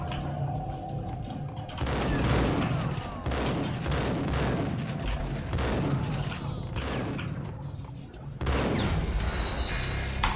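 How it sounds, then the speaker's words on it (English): Heavy, booming shotgun blasts in Max Payne ring out one after another in a loud, dense burst of gunfire, with a brief lull midway before another round of blasts resumes. "Let's switch to a shotgun"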